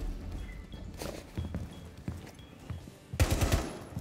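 Unsuppressed gunfire in Rainbow Six Siege, with scattered shots and footsteps through the first three seconds before a loud close burst of rapid shots near the end.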